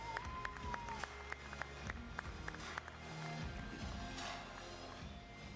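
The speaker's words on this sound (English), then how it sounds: "Make some noise for In Control." An esports audience at EA Play 2018 claps and cheers for a competitive RTS player being introduced, a steady crowd roar with scattered sharp claps throughout.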